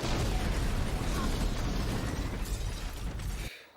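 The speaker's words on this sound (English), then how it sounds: "the guy threw a grenade." Grenade blast from a TV action show, a sustained loud, roaring rumble of explosion and debris lasting several seconds before cutting off abruptly.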